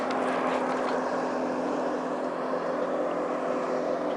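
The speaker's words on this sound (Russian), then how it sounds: "Катер, который тащит парашют." A motorboat towing a parasail drones steadily from a distance over choppy sea, a constant engine hum with a faint whir and no voices.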